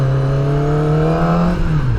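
A QJMOTOR SRK250RD motorcycle engine revs up close in a steady, rising drone that climbs in pitch, then drops off sharply near the end, with no talking.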